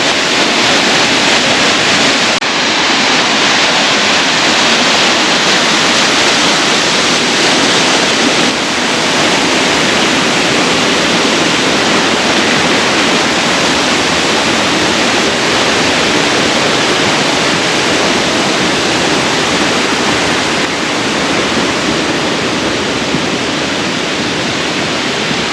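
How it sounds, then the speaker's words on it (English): A Michigan waterfall with small side cascades pours steadily, a dense, loud, unbroken rush of water with no pauses or voices from start to finish. "Some pretty little side cascades here."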